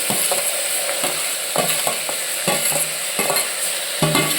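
Tomatoes being stirred into a lentil curry in a pan, with repeated scraping stir strokes over a steady close sizzle of frying, no talking.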